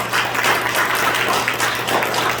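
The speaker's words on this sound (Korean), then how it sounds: "환영과 감사의 박수를 부탁드립니다" An audience in a Seoul teachers' federation auditorium applauds to welcome a professor: continuous, fairly loud clapping from many hands over a low steady electrical hum, with no talking.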